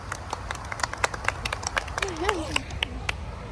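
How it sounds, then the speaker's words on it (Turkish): Quick, uneven clapping from a few people at a modeling photo shoot, close by, with voices talking over it. "Herkes alkışlasın, herkes alkışlasın."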